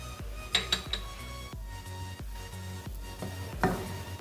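A spoon stirs mukhadi halwa with raisins, dry nuts and coconut powder in a metal pan, scraping and clinking against the sides in irregular, close strokes over a low background hum.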